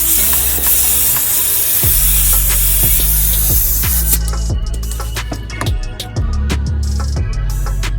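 A spray gun lays a second coat onto a car body panel repaired after a bullet hole. A loud, steady hiss fills the first half, then cuts off, leaving sharp knocks and clicks over a low hum.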